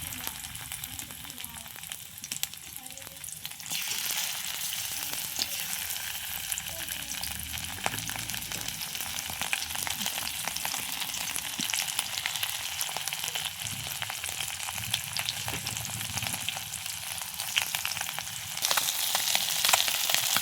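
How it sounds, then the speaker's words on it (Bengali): Small fish sizzle steadily in hot oil, the frying growing louder and denser after a few seconds and carrying on without break, close by with no talking. "মাছটি তেলের মধ্যে দিয়ে দিলাম"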